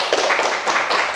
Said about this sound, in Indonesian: Silakan berikan tepuk tangannya untuk teman kita.